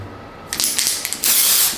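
A face spray product applied in short bursts, two hissing sprays heard close and loud: a brief one made of a few quick spurts, then a longer continuous spray that fades out.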